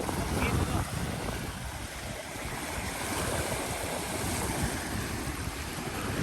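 Strong wind gusting across the open shore of Sirindhorn dam on a fishing trip, a loud, steady broadband roar with buffeting on the microphone throughout, lapping water beneath it.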